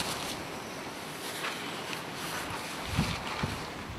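Strong wind while cycling through the Icelandic desert, a steady rushing roar buffeting the microphone, fairly faint overall with a couple of short gusts near the end.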